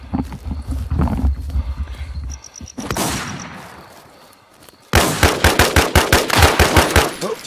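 Rapid bursts of automatic gunfire in the Smallville PvP game ring out close and loud in a steady rhythm, following an earlier rumble and a rising swoosh, with no voices.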